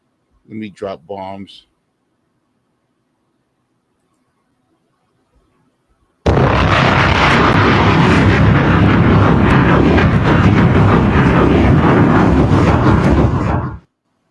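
A bomb explosion sound effect dropped into a show, a loud sustained roaring blast lasting about seven seconds after a brief spoken line and a quiet gap.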